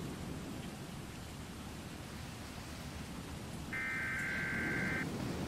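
Steady rain-like hiss fills a Garry's Mod thunderstorm scene, a broad continuous wash with no distinct thunder crack, and a brief bright tone joins near the end.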